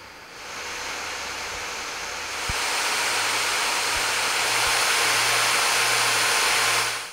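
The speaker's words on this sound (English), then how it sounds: "As the fan blades are smaller, they create a higher pitched sound when spinning at full speed" An Asus Zephyrus G14 gaming laptop's small-bladed fans spin at full speed with a steady, loud, airy hiss that swells a step louder partway through and then holds constant, with no other sounds.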